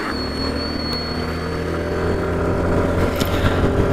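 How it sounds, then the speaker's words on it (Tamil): A Yamaha Fascino 125 scooter accelerates while being ridden. Its engine drone rises steadily over rushing wind noise, close and fairly loud with no talk. "ஸோ பைக் வந்து லைட்டாக புல் பண்ணி பார்ப்போம் எந்தளவுக்கு போகுதுன்னு சொல்லிட்டு."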